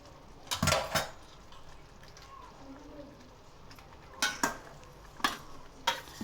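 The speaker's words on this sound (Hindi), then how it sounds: "अच्छे से हिलाकर और इसको यकजान कर लेंगे टमाटरों को चिकन के साथ" A spoon scraping and clinking against a karahi pan as chicken and tomatoes are stirred together, a few sharp metallic knocks in short bursts with quiet gaps between.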